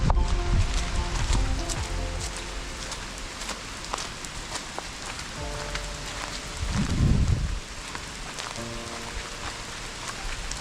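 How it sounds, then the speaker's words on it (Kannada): Heavy rain pours steadily through a forest near Sirsi, a dense continuous patter on leaves and surfaces with a brief louder swell midway, no voices. "ಫುಲ್ಲು ಮಳೆ ಬರ್ತಾ ಇದೆ."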